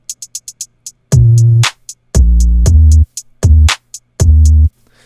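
An 808 bass sample plays at regular pitch in a remake of a hip-hop song. Four booming low notes are held over quick, crisp hi-hat ticks, loud and close, with no voices.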